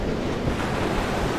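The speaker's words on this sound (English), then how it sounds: "The sea is going out." Sea waves wash onto the beach near Dawlish in a constant full roar, mixed with steady wind buffeting.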